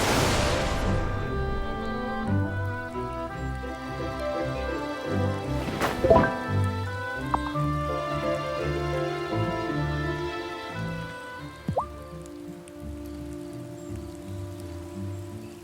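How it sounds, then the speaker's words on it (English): Summoned rain pours down in the farming video game Wylde Flowers, a soft steady patter running beneath layered game music, with a bright magical chime near the middle. "Rain pour down!"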